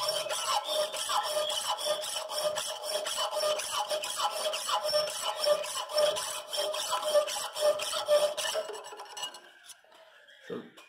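A hand file rasps across a metal knife guard in steady rhythmic strokes, about three per second, close and bright for roughly eight seconds before it stops.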